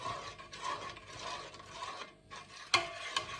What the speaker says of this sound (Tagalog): Ayan, haluin lang natin.